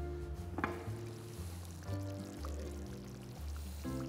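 Tomato juice pours into a pot of okra, lamb and garlic cooking on the stove, a steady liquid stream with soft sizzling underneath, close and moderately loud, with no talking.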